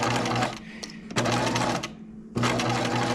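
Sewing machine running in short bursts of straight stitching along a dress dart, with steady motor hum broken by brief pauses between runs.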